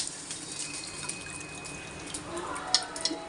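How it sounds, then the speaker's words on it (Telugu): Soaked rice is tipped into a pot holding chicken cooking water for chicken pulao, giving a wet, splashing pour with small drips and clinks against the steady kitchen background. "బియ్యాన్ని వేస్తున్నాను."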